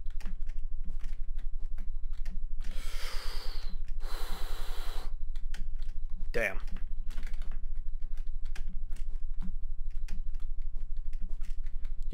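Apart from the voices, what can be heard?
aggressively pounding computer keyboard keys while playing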